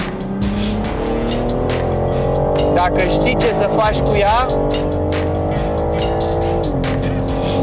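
A BMW M3 or M4 with about 510 hp is driven hard on a circuit: a loud, sustained engine roar with rising and falling revs through gear changes, under someone talking over it from inside the car.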